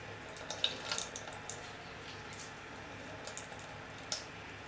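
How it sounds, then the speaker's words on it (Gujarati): Whey drains from homemade paneer curds tied in cloth, a faint trickle with a few scattered soft drips and splashes close by, quiet throughout. "તો હવે અહીંયા આપણે બધું પાણી નિતારી લેવાનું આવી રીતે."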